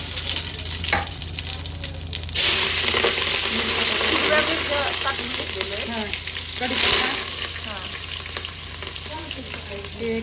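Mustard seeds and chillies fry in hot oil for khichdi, a steady loud sizzle running throughout with crackling pops and a brief stir, the hiss surging twice.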